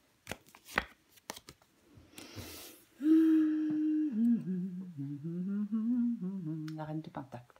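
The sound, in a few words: tarot cards being laid down on a table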